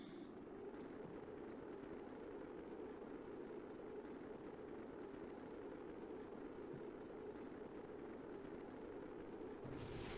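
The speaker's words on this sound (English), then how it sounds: "Everything is exploding." A spacecraft crashing into a planet in the game Kerbal Space Program sets off a long, steady roar of explosion noise, faint and continuous and broken by a few brief crackling pops.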